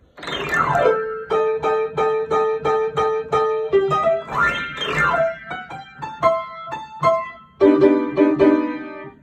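Solo piano plays a bouncy boogie-woogie phrase with rolling, repeated chords and quick upward runs, close and lively throughout.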